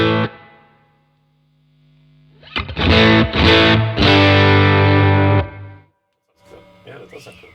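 Electric guitar played through a pedalboard with the delay taken out of the circuit and the preamp cranked, giving a loud distorted burst of chords for a few seconds, then a short quieter tail.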